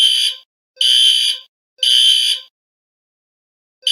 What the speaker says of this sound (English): Time to pull the fire alarm.